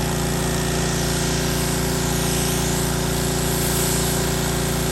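A power washer runs steadily and loudly on a mobile home roof, a constant mechanical drone with a rapid pulsing engine rhythm and hissing spray, no voices.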